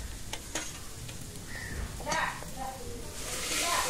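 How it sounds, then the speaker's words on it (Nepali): Dal tadka frying in a pan on medium heat, a continuous sizzling hiss broken by scraping stirs, while a voice talks over it. "एकछिन यहाँ मैले भुट्नलाई छोड्दै मिडियम हिटमा।"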